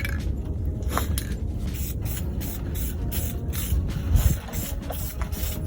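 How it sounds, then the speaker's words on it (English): Dupli-Color aerosol spray paint hissing onto a black carpet in steady bursts, close and fairly loud, with faint scraping and handling noises between sprays and no talking. "So let's just spray where I think there's gonna show as much."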